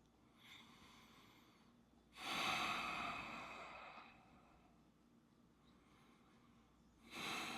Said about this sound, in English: Keep breathing nice and slowly through your nose.